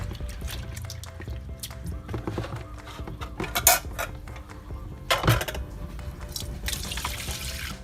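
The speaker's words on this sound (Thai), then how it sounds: "แล้วก็มาล้างน้ำล้างให้สีเหลืองหมดเลยนะคะ" Soaked hulled mung beans are rinsed in water by hand, giving close sloshing, trickling and dripping with occasional louder splashes and light clinks of a bowl or utensil, no talking.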